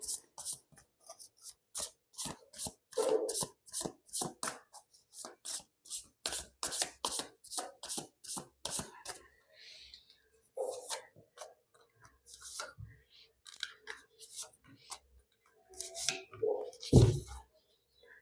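A tarot card deck is shuffled by hand, a dense run of crisp riffling and flicking card snaps that then slows into scattered slides and taps as cards are drawn from the bottom of the deck, close and alone with no talk.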